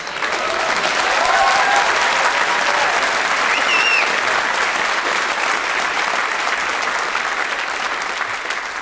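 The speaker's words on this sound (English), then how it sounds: "sure, you applaud" Comedy club audience applauding steadily and loudly for several seconds, a dense sustained wash of clapping with faint cheers, no talk over it.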